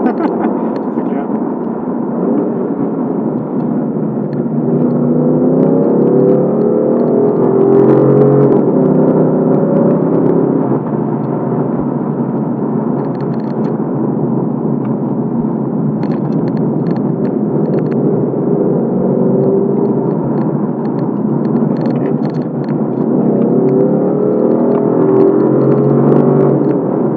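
A Ford Mustang GT V8 with 421 hp accelerates, its engine droning steadily from inside the cabin, rising and dipping as gears change; people talk over it.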